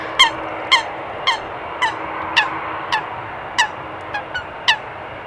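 Sharp, squeaky bird calls chitter in short bursts about every half second, fairly close, over a soft steady background hum, at Amsterdam Schiphol Airport.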